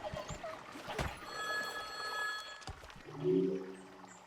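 A telephone rings in the woodland video game The Wild At Heart, a bright sustained bell tone lasting over a second amid soft game ambience and clicks.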